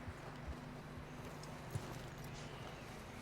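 Horses' hooves clip-clop at a walking pace on a trail in the video game Red Dead Redemption 2, soft irregular thuds over a low ambient bed, with no speech.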